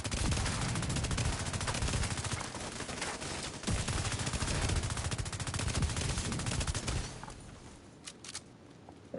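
Dense, loud gunfire from The Division 2 PvP, sharp rapid shots continuing steadily before tapering off near the end.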